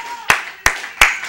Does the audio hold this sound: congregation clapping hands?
yes